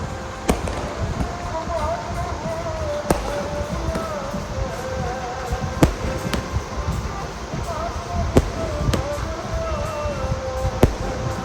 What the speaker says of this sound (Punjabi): ਆਤਿਸ਼ਬਾਜ਼ੀ ਕਿੰਨੀ ਵਧੀਆ